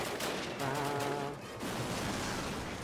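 Gunfire rattles through a Call of Duty video game battle, dense and continuous, with rapid overlapping shots at fairly low overall level.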